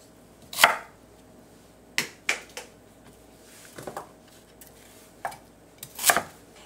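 A knife chops radish into large chunks on a cutting board: about seven sharp, separate thwacks at uneven intervals, close and distinct over a quiet background.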